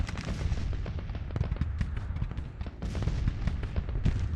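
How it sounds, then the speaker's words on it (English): Cannon fire from a Civil War artillery battle at Antietam in the strategy game Grand Tactician: The Civil War, a dense continuous rumble of booms and cracking shots rolling one after another at a steady loud level. "You can hear the artillery firing."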